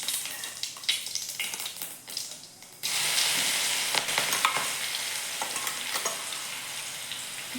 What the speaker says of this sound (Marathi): व्यवस्थित परतून घ्यायचं आपल्याला अगोदर। बघा लसूण आपला व्यवस्थित परततो।